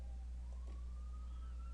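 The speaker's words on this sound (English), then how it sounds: "Another siren. I don't know what's going on." A faint siren wails in the distance, a thin rising tone drifting over a steady low hum.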